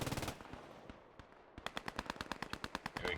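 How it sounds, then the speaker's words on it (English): German MG machine gun firing in a World War II video game, short burst, brief lull, then a long rapid string of sharp shots, fairly close. "They finally have one MG shooting"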